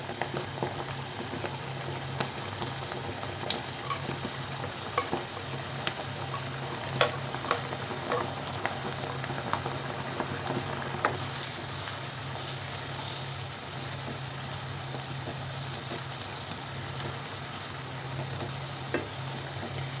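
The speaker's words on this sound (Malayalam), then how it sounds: "ഇതൊന്ന് തിളച്ച് വരുന്ന സമയത്തേക്ക് നമുക്ക് ഫ്രൈ ചെയ്ത് വെച്ചിരിക്കുന്ന ചിക്കൻ ഇതിലേക്ക് ചേർത്ത് കൊടുക്കാം" Chilli chicken sauce bubbling and sizzling steadily in a pan with fried chicken, a soft continuous simmer with scattered pops and crackles.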